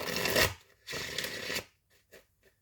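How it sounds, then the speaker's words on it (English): Tarot cards are shuffled up close in two brisk riffling bursts, each lasting about half a second, followed by a few faint light taps as the deck settles. "we'll do one more shuffle."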